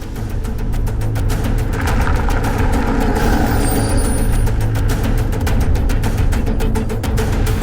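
A heavy vehicle engine runs at a steady loud rumble nearby as it is driven out, with a brief hiss partway through and no voices.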